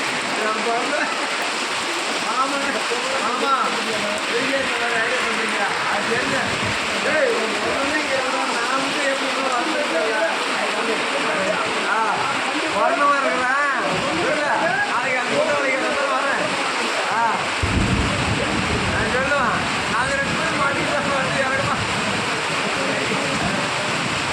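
Moderate monsoon rain falls at night on a main road beside a roadside tea shop, a steady close wash of rain that continues throughout, with traffic and voices faintly mixed in.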